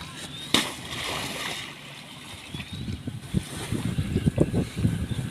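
Rice tossed into a container of soaking water lands with a sharp splash near the start, followed by softer irregular sloshing and rustling, fairly close.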